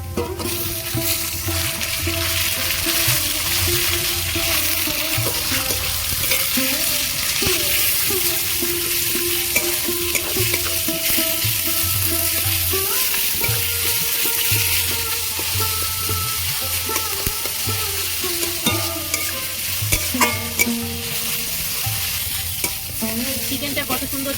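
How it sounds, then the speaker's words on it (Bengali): Chopped chicken frying and being stirred in a pan, a loud continuous sizzle with repeated scraping stirs of the spoon against the pan throughout. "এবারে চপ করা চিকেনটা দিয়ে দেবো"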